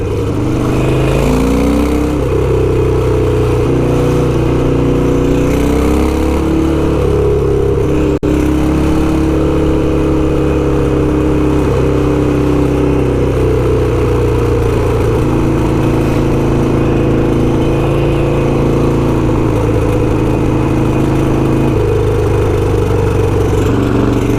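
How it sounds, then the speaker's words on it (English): A fake Ducati motorcycle engine runs loud and close, rattling from its heat shields, its pitch rising and falling as it revs and cruises on a city highway, with no talk over it. "That little rattling sound. It's my fake Ducati."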